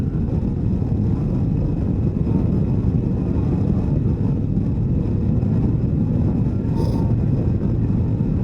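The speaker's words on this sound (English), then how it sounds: "wind. I hear more wind." Heavy wind roar buffets the microphone while riding a 2024 Harley-Davidson Street Glide motorcycle at speed, a loud, constant broadband rush with no speech over it.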